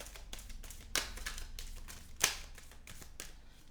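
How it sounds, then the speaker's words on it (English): Tarot cards being shuffled by hand: soft, close riffles and light taps with two sharper snaps as the deck is squared, quiet and without talk. "Fourth shuffle."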